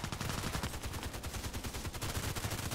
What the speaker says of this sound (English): Shoot through walls.